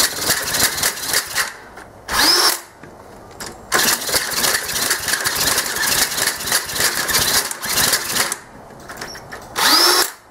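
49cc Yamaha Riva scooter engine cranking and sputtering as it tries to start, repeated buzzing bursts with rattling in between, close and loud, an uneven rhythm of catching and dying.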